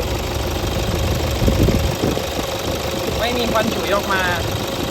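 A 2008 Toyota Hilux Vigo Smart Cab pickup with a 3.0-litre diesel engine runs with a steady, close rumble and a rough idle beat, while someone speaks over it.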